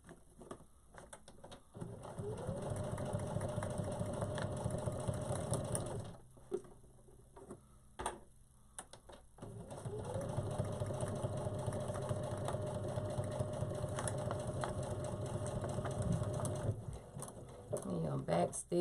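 A sewing machine stitching fabric for a heat press pillow runs in two long steady whirring bursts separated by a short pause with small clicks, close up, with a voice talking underneath.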